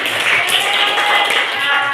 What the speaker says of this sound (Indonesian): Ayo tepuk tangan.